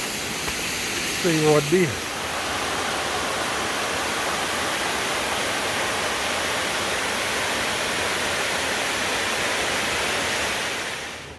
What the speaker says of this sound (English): while the river's running pretty good